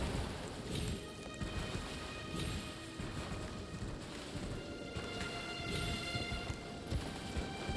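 A horse galloping in the video game Elden Ring, quiet rhythmic hoofbeats running steadily throughout under a faint game ambience.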